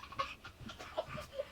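A dog pants and breathes close against someone's face, soft quick huffs and wheezy breaths, faint and very near.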